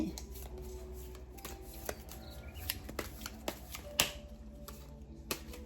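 Siam tarot cards are shuffled by hand, close and fairly quiet: a run of soft riffling rustles broken by sharp taps and flicks as the deck is squared and cut, with no talking over it.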